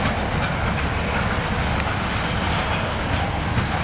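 A CSX freight train hauling ethanol cars rolls into a siding nearby, a loud, steady roar of wagons with faint rhythmic clicking of wheels over rail joints, continuous throughout.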